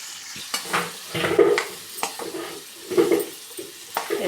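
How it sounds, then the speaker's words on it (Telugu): Kakoda pieces being stirred through masala and oil in a pan, with repeated scraping strokes of a spoon and a steady sizzle underneath, close and moderately loud with no talking. "వేసుకొని బాగా మసాలా మొత్తం వీటికి పట్టేలాగా కలుపుకోవాలండి."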